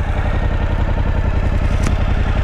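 A Suzuki V-Strom 1050 fitted with a Mivv Speed Edge exhaust idles close by, a steady, even low throb of rapid exhaust pulses that holds level throughout with no revving.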